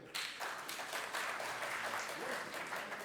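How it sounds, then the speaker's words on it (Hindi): Applause from an audience at a media conclave honoring a journalist, dense steady clapping that begins sharply and continues throughout at moderate volume. "एक ताली जरूर बजाएं"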